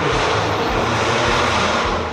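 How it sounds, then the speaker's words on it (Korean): A loud motorcycle roars past on a Singapore street, a steady, close, unbroken engine drone that fills the whole moment with no one talking. "아, 오토바이 같은 게 지나가는데 굉장히 시끄럽네요"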